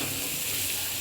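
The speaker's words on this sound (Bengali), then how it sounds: "তোমরা এখন দেখতে পাচ্ছ যে এটা ভাজা ভাজা হচ্ছে এখন।" Potato and pointed gourd curry frying in a pan, a dense, even sizzle and hiss lasting about a second, close up and without talk.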